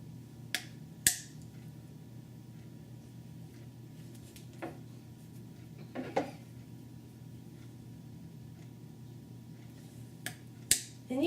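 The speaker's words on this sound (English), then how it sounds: "you can hear the metal hitting the metal as it pops through" A metal leather punch pops through leather with a few sharp metallic clicks and snaps, spread out and fairly faint over quiet room hum, with no talking.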